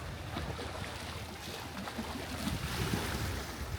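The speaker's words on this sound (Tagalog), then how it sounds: "Lakas ng alon." Strong waves wash and churn steadily against a lake shore at Waterton, Alberta, a broad continuous rumble with some wind buffeting the microphone and no voices.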